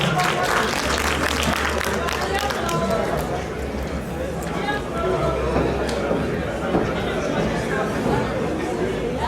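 Crowd at a French community gathering applauding the president of the High Council of Malians of France, dense continuous clapping mixed with loud chatter and voices throughout.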